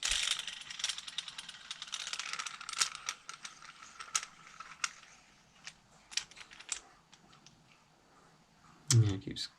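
Metal tool being threaded onto a Bontrager Rapid Drive bicycle hub bearing during a strip and rebuild, giving a run of small close ratcheting clicks and scrapes, with a heavier clunk near the end.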